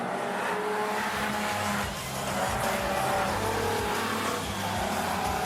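Super Street race cars roaring past at Rockhampton Speedway near the finish line, a loud, continuous engine drone with rising and falling revs and tire noise, heard fairly close.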